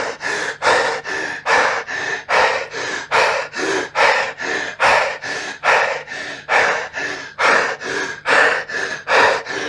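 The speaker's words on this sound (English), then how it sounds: "I'm going to do the breathing for 30 seconds, as fast and as loud as you can. Hyperventilate" Fast, loud forced hyperventilation: about two dozen deep, rhythmic in-and-out breaths roughly every half second, harsh and close, with no talk over them.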